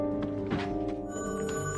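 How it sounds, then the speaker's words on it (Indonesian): A telephone rings in a dramatized film scene, with a dense tonal bell-like ring over a music bed for under two seconds and no voices. "Tiba-tiba terdengarlah bunyi telepon di mana Chris telah mendapatkan telepon dari"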